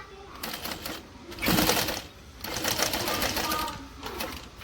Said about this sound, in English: when I get to the corner, I'll pivot and stitch down.